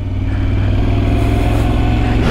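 A Yamaha R1 motorcycle engine pulls steadily in fifth gear at about 3000 rpm, a loud, continuous low drone with a strong throbbing rumble that holds even throughout, close up.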